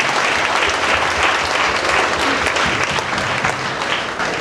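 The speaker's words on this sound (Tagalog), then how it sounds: "malakas na palakpak para sa Panginoon sa Kristo." A church congregation applauds loudly and continuously, dense clapping holding steady before tapering slightly at the end.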